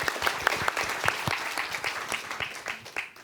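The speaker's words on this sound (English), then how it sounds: "One round of applause," Audience applause at a symposium opening, a steady patter of many hands clapping with fairly sparse individual claps standing out, moderately loud and tapering slightly toward the end, with no talking over it.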